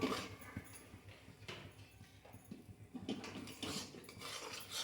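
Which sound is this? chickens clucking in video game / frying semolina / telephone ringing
frying semolina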